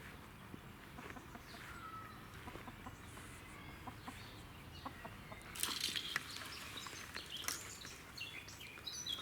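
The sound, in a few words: hens clucking in henhouse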